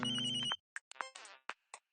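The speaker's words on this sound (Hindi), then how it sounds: "यार तेरा फोन है, तू उठा।" A mobile phone ringtone plays quietly: a sustained chiming chord, then a short run of bright, separate melodic notes.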